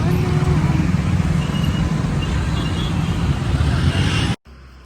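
Road traffic on a busy street, a continuous loud rumble and wash of passing vehicles close by, with faint voices in the mix, cutting out suddenly at the end.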